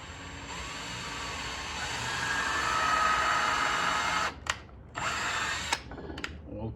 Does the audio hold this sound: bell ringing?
no